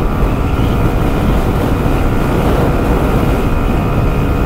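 A 2024 Kymco Skytown 125 scooter runs at full throttle, its engine a loud, steady drone heavily mixed with rushing wind noise and holding an even pitch throughout, with no voices.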